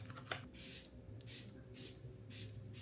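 Several short bursts of a fine mist of Charlotte Tilbury setting spray, hissing pumps in quick succession, close and fairly soft against a quiet background.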